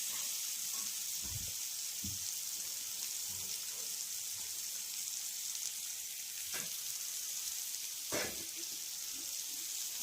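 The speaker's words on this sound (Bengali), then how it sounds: "আলু আর পেঁয়াজ একসাথে আমি ভেজে নিচ্ছি" Potato and onion frying together in oil make a soft, steady sizzle heard up close, with a few clattering stirs and utensil knocks scattered through it.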